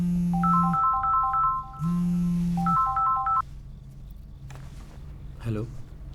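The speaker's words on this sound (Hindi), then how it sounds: "तभी अचानक से मेरा फ़ोन बजा।" A mobile phone ringtone plays a bright repeating melody in two loud bursts with a short gap between them, then stops, leaving a quieter room with faint movement and a short vocal sound near the end.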